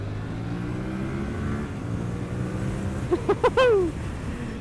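A 2021 Yamaha MT-07 motorcycle rides along a twisty road, its engine droning steadily under wind noise, then easing off as it decelerates under front and rear braking, with a few short rising engine notes near the end.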